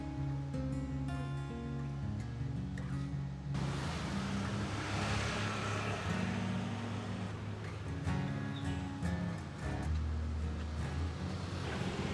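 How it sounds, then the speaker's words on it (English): Steady street traffic at a busy intersection in central Ubud, Bali, near the Monkey Forest road, with engines droning and passing continuously at a moderate level and no talking. "So this is the traffic in Ubud, and this is right up near the centre of the intersection"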